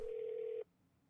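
A single steady telephone tone sounds in the Kentucky Route Zero video game, holding evenly for about half a second before cutting off abruptly into quiet.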